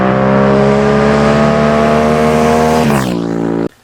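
An Aprilia RS457 motorcycle with exhaust baffles removed revs loud and close, holding a steady rasping high-rpm drone before the pitch drops sharply and the engine cuts off abruptly.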